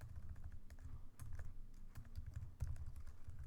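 Computer keyboard typing while someone writes Java code, a rapid, uneven run of close clicks and key thumps that carries on steadily with small pauses, and no voice over it.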